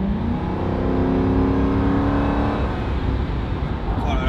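A car engine revs loudly and close by, a steady roaring drone with a falling pitch sweep, like an American police car on a wet road; voices are faintly heard around it.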